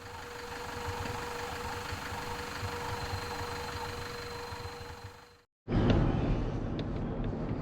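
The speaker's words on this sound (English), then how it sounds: "we have vehicles idling all around us, which is not pleasant" Steady low engine rumble of idling safari vehicles in Kruger National Park, continuous and fairly close, briefly cutting out before resuming at similar loudness.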